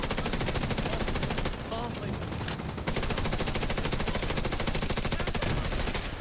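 Rapid, dense gunfire rattles continuously in a video game firefight, loud and close, with a short dip partway through that may carry a grenade blast, under faint voices.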